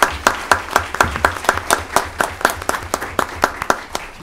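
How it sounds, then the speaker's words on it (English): Applause at a Union County freeholder meeting in New Jersey, honouring a fourth-grade poetry winner. It comes as sparse, distinct claps in a fairly steady rhythm, as if from a small group of people clapping nearby. "Big round of applause."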